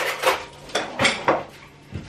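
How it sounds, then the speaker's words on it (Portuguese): Banana being mashed in a bowl with a utensil, a few distinct clinking, scraping knocks of metal against dish spaced irregularly, close and fairly loud in a quiet kitchen. "Vou fazer só para machucar a banana"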